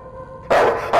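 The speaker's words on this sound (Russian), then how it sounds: "собака, заткнись ты нахер, я ничего не слышу, подожди." Two loud, close dog barks burst out one after another in the horror video game Night People, following a quiet faint tonal hum.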